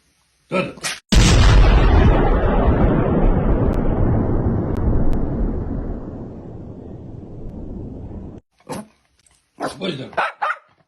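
A truck explodes on the Kerch bridge in Crimea with a sudden heavy blast, then a long rumbling roar that fades over several seconds. Brief speech comes just before it and again after it.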